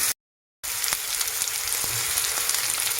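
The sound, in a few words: onions and peppers frying and being stirred in a pan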